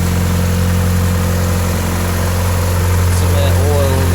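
A 1988 Honda Accord engine idles after a fuel pump repair, a loud, close, steady low hum with an even drone that holds without change throughout.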